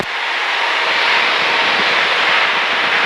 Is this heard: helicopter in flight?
yes